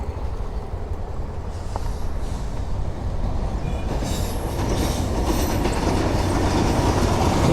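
A Bangladeshi train draws near Hili station, its rumble and wheel clatter building steadily from a moderate level to a loud, close roar, with no voices over it.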